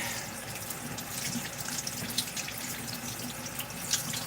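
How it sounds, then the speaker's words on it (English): Water runs steadily from a tap into a sink during handwashing in a home kitchen. The flow is close and continuous and is broken by light splashes, with no talking. "Wash my hands."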